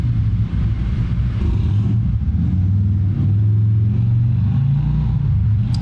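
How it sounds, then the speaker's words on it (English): A neighbor's motorcycle riding by outside, heard as a steady, loud low engine rumble that swells slightly while it passes, with no talk. "That's my neighbor with his bike."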